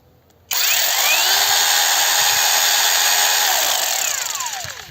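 A YUANSEN YS-12GSJ cordless handheld chainsaw, bar and chain removed for an oiling test, switches on abruptly and runs at a steady high-pitched whine for about four seconds, loud and close, easing slightly at the end.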